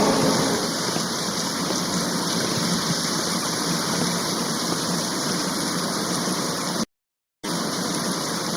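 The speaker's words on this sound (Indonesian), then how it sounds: "di luar hujan deras" Heavy rain falling outside in the Sakura School Simulator video game, a loud, steady rushing downpour that stops abruptly for a brief moment near the end before resuming.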